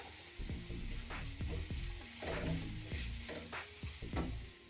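A spoon stirs turmeric and spices in a pan, scraping and clinking rhythmically in repeated strokes over a soft sizzle, close and quiet, with no talking.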